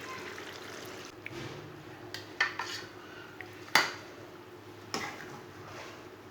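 Cooked goat meat being moved onto another plate in a home kitchen, with several sharp clinks and clatters of dishes and utensils spread over a few seconds against a quiet background.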